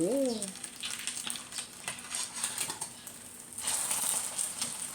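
Steady crackling sizzle of preserved radish omelette frying in a pan over high heat, with scattered sharp pops and a brief voice-like tone at the start.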